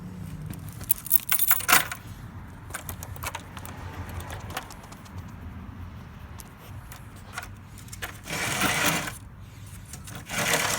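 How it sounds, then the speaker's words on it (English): Car keys jangle close up in irregular shaken bursts, with brief clinks rising and falling and a louder rattle near the end, alone with no voices. "My car keys."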